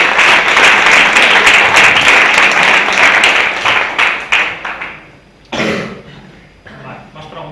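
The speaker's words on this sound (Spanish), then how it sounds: "Un aplauso para ella." Dense audience applause after a talk at a wellness event in Alcañiz fades out over several seconds, followed by a cough and some throat clearing in the quieting room.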